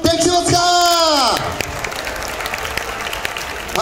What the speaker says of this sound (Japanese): 素晴らしい拍手、素晴らしい拍手ですけど声援が足りません